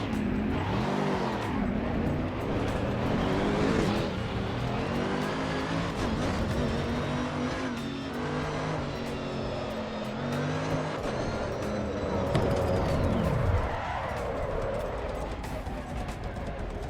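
Racing cars in the Assetto Corsa Evo driving game roar and rev continuously at close range, engine pitch sweeping up and down through gear changes while a deflated front-left tyre bursts and the tyres squeal.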